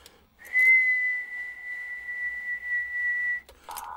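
An ATU-100 automatic antenna tuner tuning itself gives a steady, clear, whistle-like tone that holds for about three seconds before cutting off. A few brief clicks come just before and after it.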